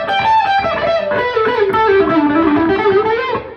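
Electric guitar played through heavy distortion, sustained gritty notes sliding and bending over a thick buzzing chordal wash, loud and close with no talking.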